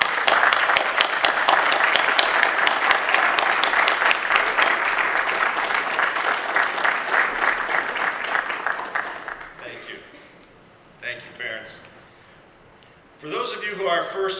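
Sustained audience applause at a combined armed forces commissioning ceremony, with dense steady clapping filling the room for about nine seconds before fading out; a few scattered claps and voices follow near the end.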